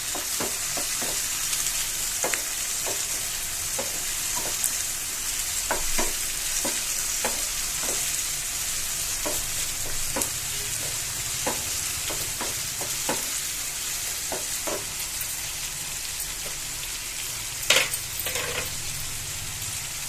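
Tomatoes and curry leaves frying in a pan, a continuous close sizzle punctuated by regular spoon scrapes and clacks against the pan as it is stirred, with one louder knock near the end.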